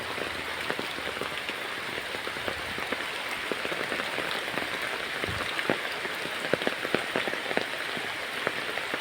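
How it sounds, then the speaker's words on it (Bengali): Rain falls steadily onto a village pond and surroundings, a dense even hiss of drops with scattered sharper splats and taps, close and continuous with no voices. "দেখেন, বৃষ্টি পড়ছে পানির মাঝে পুষ্করিণীতে।"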